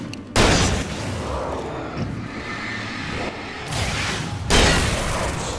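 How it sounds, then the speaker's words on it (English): Flashbang explosion in the Alan Wake video game, loud sudden bursts with a sustained roaring blast and a second surge near the end, alone without talk. "Flashbang time."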